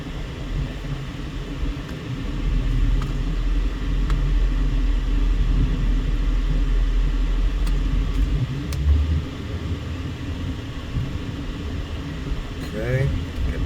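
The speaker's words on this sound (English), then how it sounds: "Someone moving a Toyota pickup truck here." A Toyota pickup truck rolls by on a street in East Las Vegas, its engine rumble and tire noise steady and fairly close, mixed with general traffic ambience.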